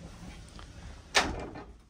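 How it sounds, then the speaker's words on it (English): Solid wood privacy door in the bathroom of a 2019 Tiffin Allegro Red 37BA Class A diesel pusher motorhome, heard as a single close thud as it swings shut, with a short rattle fading after it. "privacy door, solid wood doors."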